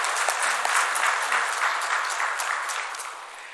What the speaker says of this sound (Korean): 우리 격려의 박수 한번 드리도록 하겠습니다.